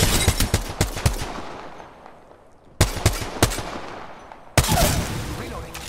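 Automatic gunfire in a first-person shooter match: repeated sharp bursts of rapid shots, loud and close, with a quieter gap in the middle before heavy firing resumes.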